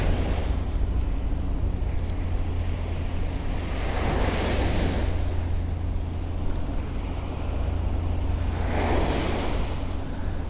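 Ocean waves roll onto the beach at Fuengirola, with two swelling surges of surf washing in over a constant loud roar of wind buffeting the microphone.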